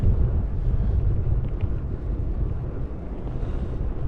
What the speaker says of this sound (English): The wind is going to do what the wind is going to do.